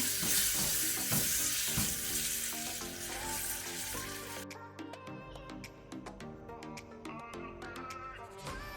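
Steady, bright sizzling of curry leaves frying in hot oil over low flame, loud and close, with a few sharp crackles and pops near the end; no voices.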